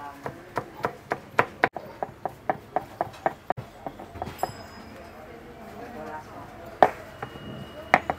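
A knife finely chops green chilies on a cutting board with quick, evenly spaced strokes that slow into sparser, irregular cuts, while a voice speaks in the background.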